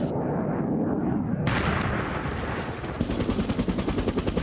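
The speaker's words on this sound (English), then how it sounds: "The Super Cobra can fire either the TOW or the newer Hellfire anti-tank missile" An AH-1W Super Cobra attack helicopter launches TOW or Hellfire anti-tank missiles: a loud, sustained roaring blast that gives way to a rapid, rhythmic train of heavy firing pulses.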